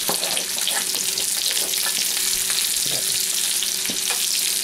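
Onion powder, salt and pepper being mixed in a hot pan, a steady sizzle with repeated stirring scrapes, close and without talk.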